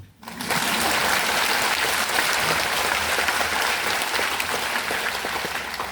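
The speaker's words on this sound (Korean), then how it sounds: "박수" Sustained applause from an audience at a Catholic environmental ministry gathering, with dense clapping that rises quickly and holds steady, loud and continuous throughout.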